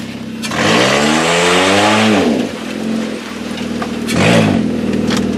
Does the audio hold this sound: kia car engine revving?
yes